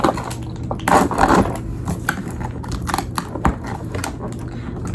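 Keys scraping and jabbing at the seal of a plastic-wrapped package, giving a run of sharp clicks, scratches and crinkles close by over steady low room hum, with no talking.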